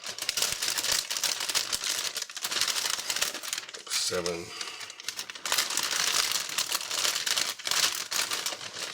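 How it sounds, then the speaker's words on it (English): Plastic bags holding the parts of a 1/48 Revell B-26 Invader model kit rustle and crinkle close up, almost continuously, as a person counts aloud over the noise. "Sorry about all the rustling."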